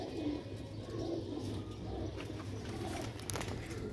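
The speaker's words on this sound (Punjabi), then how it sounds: "ਚੂਹੇ ਕਬੂਤਰ ਸਬਜ਼ ਗਰਦਨ ਵਾਲੇ ਮਾਸ਼ਾਅੱਲਾ ਦੋਸਤੋ" Green-necked Sialkoti pigeons coo softly in repeated low, throaty calls, close by and steady, with faint chirps in the background.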